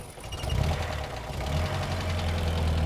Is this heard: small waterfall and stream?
no